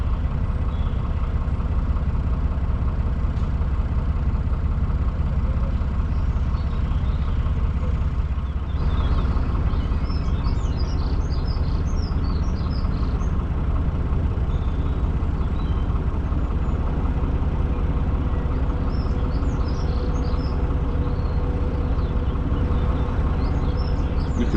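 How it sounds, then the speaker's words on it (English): Ventilation fans running inside a canal tunnel give a steady low droning rumble, constant and moderately loud throughout with no speech. "You can hear the fans now going in the tunnel, where the other boat has already gone in."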